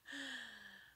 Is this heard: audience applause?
no